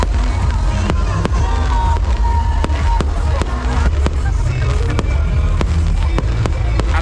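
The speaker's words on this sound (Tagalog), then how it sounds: "syempre may fireworks dyan." Fireworks bang in rapid, irregular bursts over the steady roar and cheering of a large crowd at a festival concert, loud and close throughout.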